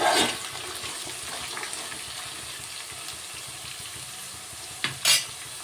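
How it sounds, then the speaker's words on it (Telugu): Broad beans (chikkudukaya) fry over a high flame in a pan on the stove with a steady close sizzle, a loud burst at the start and a couple of sharp stirring clatters near the end, with no voices. "ఇదిగో ఇలా ఫ్రై అవుతుంది"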